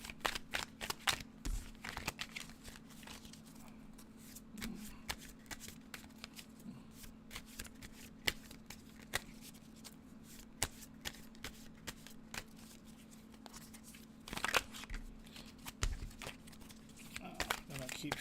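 Tarot cards shuffled in repeated riffling bursts close to the mic, crisp papery flutters and snaps recurring through the stretch over a steady low hum, with no talk.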